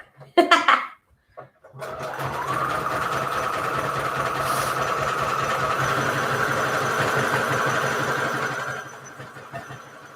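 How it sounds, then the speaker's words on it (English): A home sewing machine runs a basic zigzag stitch on a patchwork junk journal cover, a steady close mechanical whir and rapid needle clatter lasting about seven seconds after a brief opening clunk, then stopping. "So I'm going to do stitch number 4, which is just your basic zigzag stitch on my machine anyways"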